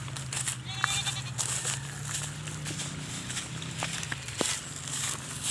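Goats out at pasture bleating several times in short, wavering calls over a steady outdoor background, with occasional light footstep-like clatter and no talking.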